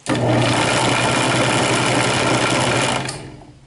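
A Buffalo 15 drill press driving a buffing wheel gives a steady, loud mechanical whir with a constant hum that runs unbroken for about three seconds, then winds down and fades.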